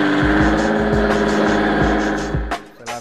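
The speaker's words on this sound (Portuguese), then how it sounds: "eu sempre quis ter os seis cilindros da Volkswagen, o VR6" A Volkswagen Parati with a VR6 six-cylinder engine runs close by with a deep, steady idle and a series of rhythmic low pulses, then briefly revs near the end.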